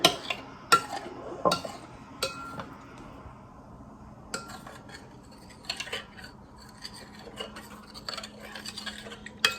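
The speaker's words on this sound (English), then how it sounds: "Mix it up so it's pretty blended." Sourdough starter and a cup of water stirred together in a bowl, a spoon or whisk scraping and clinking against the sides in irregular strokes, close and fairly quiet with a few sharper knocks.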